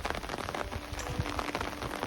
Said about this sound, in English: It's not an extremely heavy rain